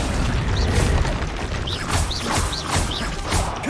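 A spell-casting effect from the Hogwarts Legacy video game plays as the Accio summoning spell is cast, with whooshing bursts and booming impacts repeating several times over a dense, loud game soundscape.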